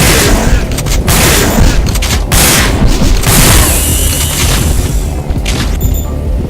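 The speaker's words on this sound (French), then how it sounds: "On est en train de vider nos munitions" Sustained bursts of loud, dense gunfire and booming shots in the Resident Evil: Dead Aim video game, firing continuously as ammunition is emptied, with no pause.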